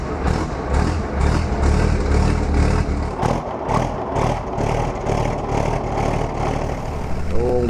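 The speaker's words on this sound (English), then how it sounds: "crank up the old Michigan 175C front end loader" The engine of an old Michigan 175C front end loader runs loud and close with a heavy low rumble and a pulsing chug, with speech over it.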